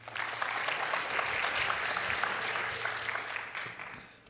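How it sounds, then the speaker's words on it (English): Audience applause welcoming panelists onto a stage at a finance conference, a moderate round of clapping lasting a few seconds before fading out. "Please welcome my panelists with a round of applause."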